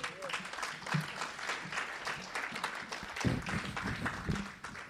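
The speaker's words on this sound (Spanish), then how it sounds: "Le da un aplauso a Cristo." A church congregation at a Wednesday service gives applause to Christ. It is a fairly quiet, uneven patter of clapping from a modest crowd, with a few louder claps and thumps partway through.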